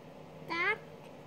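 A voice imitates a cat's meow: one short, rising-and-falling mew lasting about a quarter second, heard close over a quiet room.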